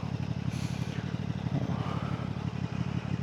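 A QJ Motor SRV 600 V4 cruiser with twin exhausts idles nearby in a steady low, even thrum that continues unbroken throughout without revving.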